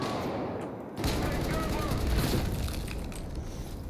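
Rapid weapon fire in the Battlefield 4 video game bursts in after a quiet second and continues as dense, sustained shooting with crackling impacts, loud and close, with someone talking over it.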